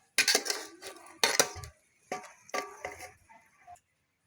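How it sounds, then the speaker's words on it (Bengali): Taro (kochu) is peeled and handled in a home kitchen: several sharp clattering bursts of a knife and utensils against a pot or plate, close and clear, separated by short pauses. "দেখেন কচু ছুলতেছে"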